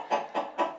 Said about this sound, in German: jetzt sind wir noch unten bei den Hühnern